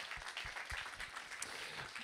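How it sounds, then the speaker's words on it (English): Fairly faint, steady applause from an audience at a conference welcome session, crisp individual claps blending into a continuous patter. "Je crois qu'on peut tous les applaudir pour une organisation sans faille"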